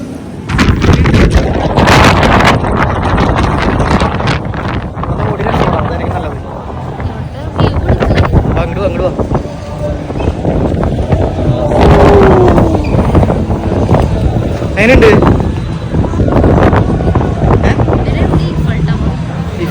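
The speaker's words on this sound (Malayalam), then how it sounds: "നല്ല കാറ്റുണ്ട്" Strong wind blows near the Eiffel Tower in Paris, buffeting the microphone with loud, continuous roaring gusts. People speak intermittently underneath.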